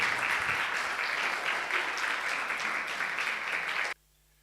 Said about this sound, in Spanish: Dale un aplauso fuerte al Señor Jesús.